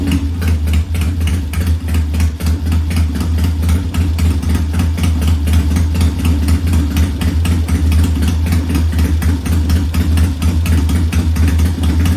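Triumph T100 motorcycle engine running at a steady idle after a test start on a workshop lift, a loud, close, even rhythmic throb throughout with no talk.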